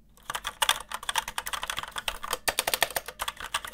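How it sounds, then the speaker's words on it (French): Rapid keystrokes on a full-size RGB gaming keyboard, a steady clattering run of clicks with a slightly hollow tone, close and clear with no talking. "Je vais vous faire écouter tout de suite les bruits des touches"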